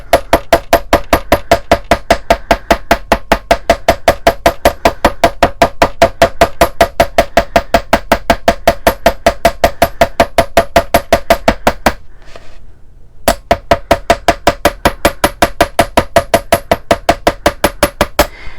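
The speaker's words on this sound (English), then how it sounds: "I'm going to hammer only one side of this wire" Steady, rapid hammer blows on one side of 20 gauge brass-colored wire resting on a steel block, sharp metallic taps in a fast even rhythm, close and loud, with a brief pause near the end before the strikes resume.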